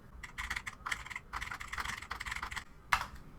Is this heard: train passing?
no